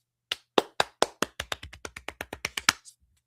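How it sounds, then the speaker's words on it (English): About fifteen small, crisp hand claps come in a quick, fairly even run, each one a sharp isolated snap with near silence around it. "Mini clap"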